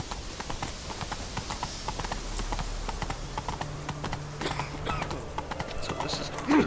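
A horse canters in The Witcher on Xbox One, its rhythmic hoofbeats clip-clopping steadily and close over a faint game background, with a brief snort near the end.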